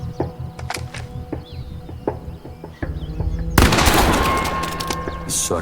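Gunfire rings out during target shooting in The Quarry video game, with a series of sharp, evenly spaced shots followed by a louder, sustained crackling burst.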